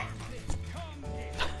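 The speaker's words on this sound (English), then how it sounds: "Dog's protecting me from the evil." A dog in an Overwatch match gives a couple of short yipping barks with a faint whimper, close and fairly quiet against game background noise.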